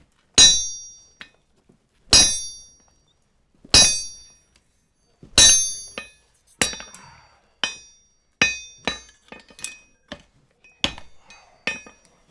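A hammer strikes metal on an anvil while forging a handmade hammer, sharp ringing clangs spaced out at first, then coming faster in uneven clusters, close and loud.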